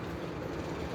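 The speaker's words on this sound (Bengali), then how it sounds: "এখন চলে যাচ্ছি মেট্রো রেল দিয়ে গন্তব্য" Dhaka metro rail train running, a steady broadband rumble and rolling rail noise with no breaks, loud and close throughout.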